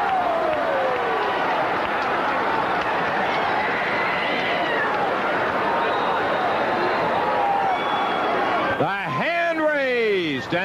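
An arena crowd at a 1982 Memphis wrestling match roars and applauds without pause after Jerry Lawler beats Nick Bockwinkel for the Southern heavyweight title. The noise is loud and dense, with shrill whistles toward the end.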